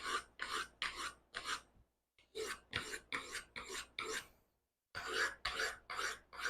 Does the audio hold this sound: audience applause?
no